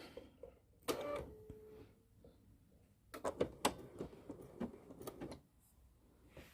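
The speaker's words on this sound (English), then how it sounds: "I'm just going to sew that on" A sewing machine with a piping foot stitches piping onto fabric, giving quiet, intermittent mechanical whirring bursts with small clicks and pauses between runs.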